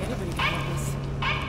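An annoying dog-like barking and yipping sound in The Division video game, repeating in short bursts over a steady mechanical hum with game ambience.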